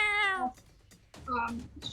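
A person's voice imitates a little cat's yelp: two short, high, meow-like cries close to the mic, the first sliding downward, with a brief pause between them.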